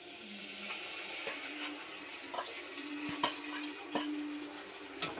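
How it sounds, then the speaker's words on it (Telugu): Tomatoes dropped into hot oil for a dried fish curry give a steady low sizzle with faint scraping stirs and a few sharp clinks of a utensil against the pan, with no voices. "నువ్వు ఈ నూనెలో టమాటాలు వేసుకుంటున్నాను నేను."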